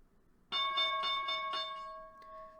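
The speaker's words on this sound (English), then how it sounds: "Alright, here's the bell" Stock market opening bell ringing in a rapid series of about five sharp metallic strikes, then a sustained ringing decay, fairly close and alone without talk.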